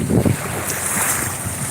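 Wind buffets the microphone on a sandy beach along the broad Columbia River, a steady roar of gusts with a louder low rumble at the start and faint lapping water beneath.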